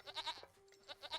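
Goat in Age of Empires III giving a few short bleats in quick succession, a brief pause, then two more, faint and alone.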